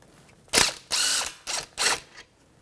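A 17mm socket ratchet undoing the brake caliper mounting bolts on a 1992-1996 Toyota Camry gives four close, loud bursts of rapid pawl clicking, separated by short pauses, with no talk.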